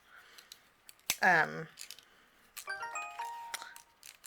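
Scissors cut through cardstock during a cardmaking lesson, giving a short crisp snip close to the microphone, then a few smaller clicks and rings, with talk nearby.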